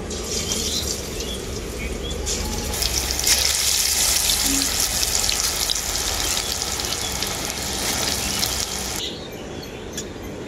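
Potato pakoras deep-fry in hot oil with a loud, dense, continuous bubbling hiss that eases slightly toward the end.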